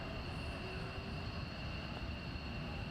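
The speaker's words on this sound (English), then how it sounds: "once he gets onto the runway, I'll be quiet so you can get the roar of the engines." Military jet engines roaring on the runway at RAF Lakenheath during a massive launch, a steady broad distant rumble and hiss with no breaks, moderately loud and continuous.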